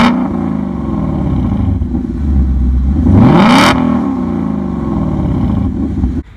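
A 2018 Ford Mustang GT engine revs loud and close, holding a low rumble, then climbing to a sharp peak and falling back to a steady idle.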